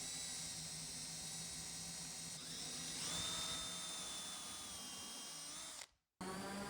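Power drill boring pocket holes through a Kreg pocket hole jig for DIY cabinets, a steady high whine that rises in pitch midway, then cuts off briefly near the end before resuming.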